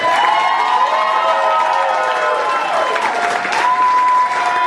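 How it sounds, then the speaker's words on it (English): Pub audience at a retirement roast in Detroit breaks into sustained applause mixed with cheers and whistles, a dense, loud, steady clatter of clapping throughout. "Give him a round of applause."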